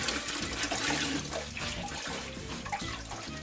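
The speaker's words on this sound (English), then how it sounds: "put the bucket down and again drain the water" Soapy water from a bucket of washed fight clothes pours and splashes out as it drains, a steady close gush with uneven sloshing bursts and no talking.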